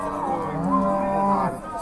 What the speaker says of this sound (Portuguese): Mais uma vaca aqui